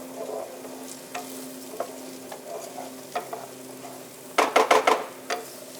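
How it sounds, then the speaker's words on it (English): A spoon stirs butternut squash risotto in a pan over a steady sizzle, with soft scraping strokes and a cluster of louder, quick scrapes toward the end. "We'll keep stirring"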